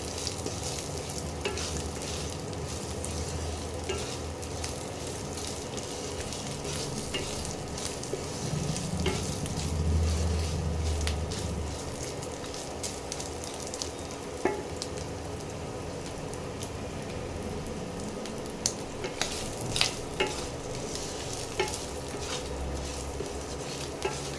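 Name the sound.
dried red chillies frying and being stirred in a pan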